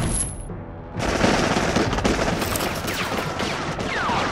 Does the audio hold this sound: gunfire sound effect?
yes